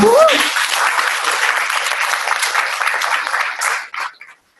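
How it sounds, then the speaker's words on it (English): Steady applause from a debate audience, dense clapping that holds evenly for several seconds before quickly tapering off to silence. "Should we give them a round of applause?"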